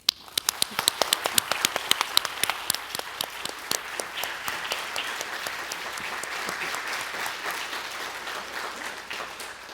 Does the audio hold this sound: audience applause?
yes